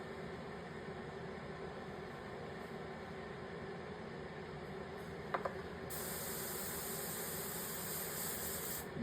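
An airbrush sprays thick, barely reduced paint onto a custom Harley glide, giving a faint steady airy hiss with a brief click midway, then a sharper, brighter hiss that continues to the end.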